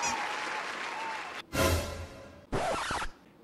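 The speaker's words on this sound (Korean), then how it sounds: "자, 박수!" Applause greets a reveal in a Korean studio, two short bursts of clapping separated by a brief gap, close and fairly loud against a quiet room.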